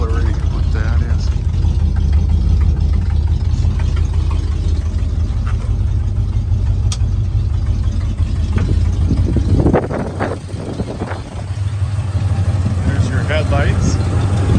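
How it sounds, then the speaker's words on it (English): A 1977 Ford F350 tow truck's engine idles steadily and smoothly up close, a continuous low rumble with a few brief knocks and clatters partway through. "Said the engine runs really smooth. Sounds good."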